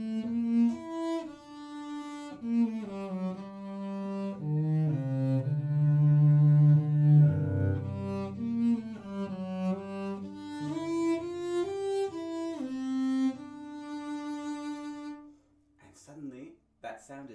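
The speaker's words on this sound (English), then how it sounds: "Now I'm going to put my mute on and play something sort of similar." A cello played with a mute clipped onto the bridge gives a small, thin, muffled tone, a slow melodic line of sustained notes and gentle pitch changes that fades out near the end, with no talking over it.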